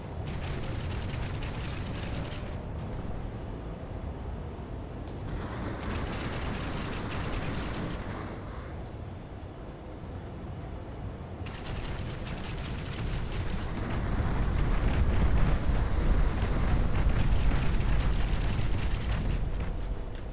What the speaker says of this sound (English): Is that you shooting at him with the tank buster?